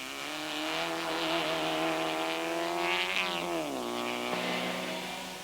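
A vintage MGA race car at a historic Grand Prix in 1990 roars past up close with a loud sustained engine note that rises, then drops sharply at a gear change before climbing again.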